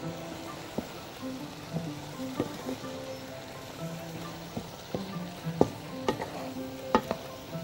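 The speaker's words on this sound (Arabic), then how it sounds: "وهنا اهو بنقلب" Rice and chicken are being stirred in a hot pan, with a steady close sizzle of frying broken by repeated scraping clicks and knocks of the spoon against the pan.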